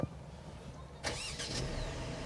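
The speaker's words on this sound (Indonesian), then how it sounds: "Kita nyalakan dulu mesinnya." A Mercedes-Benz C300 four-cylinder engine cranks and fires about midway, a short sharp burst of starter whir and catch, then settles into a steady idle hum nearby.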